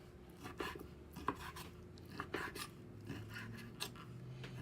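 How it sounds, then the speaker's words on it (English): A knife cuts pork into small cubes on a board, making quiet, irregular chops and scrapes with short gaps between strokes, close up and alone. "So I just cut them into small little cubes."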